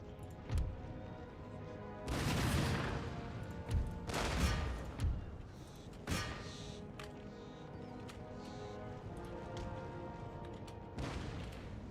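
Cannon fire in the video game Empire Total War, heavy booming blasts and crashing impacts arriving in irregular bursts, several loud volleys separated by quieter stretches of battlefield noise.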